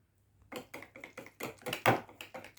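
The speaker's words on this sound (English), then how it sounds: "Now you're going to whisk it till there aren't any bits of flour in it." A whisk beats rapidly against a bowl of pancake batter, a steady run of light clinking taps in quick rhythm with no talking.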